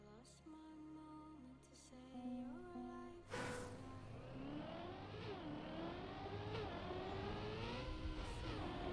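A racing car drifting in a video game time-trial: a steady engine drone shifts into a loud, wavering tyre-and-engine howl that slides up and down in pitch as the car swings through the drift.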